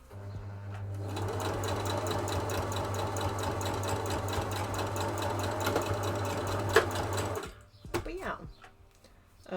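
A sewing machine stitches ribbon in a fast, steady mechanical whir with rapid needle clatter for about six seconds, then stops, followed by a few faint handling clicks.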